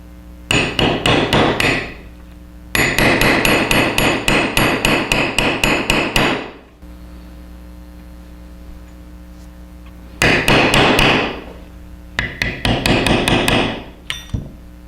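A mallet taps a 3/8 inch hollow chisel into wood to cut mortise corners, delivering bursts of rapid, sharp, evenly spaced knocks separated by short pauses, close and loud with no voices.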